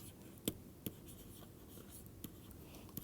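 Chalk or a pen writes a lecture title on a board in a quiet room, making a few faint, separate taps and short strokes.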